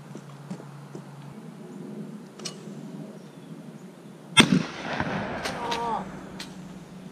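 A single sharp shotgun blast rings out at a thrown clay target on a gun range, fairly close and loud, followed by a lingering echo while people talk in the background.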